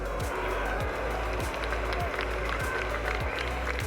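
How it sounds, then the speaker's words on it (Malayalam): Applause sound effect on winning a Hand Cricket online game, a steady wash of clapping lasting the whole stretch over dense mixed game sounds with rhythmic low thumps. "ജയിക്കുമ്പോൾ നമുക്ക് കൈയടിക്കുന്ന സൗണ്ടൊക്കെ കേൾക്കാൻ പറ്റും."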